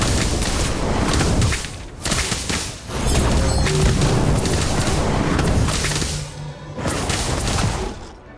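Incendio fire spell cast in the video game Harry Potter: Magic Awakened, a loud roaring whoosh of flame with heavy booming impacts, surging in repeated bursts with brief pauses between.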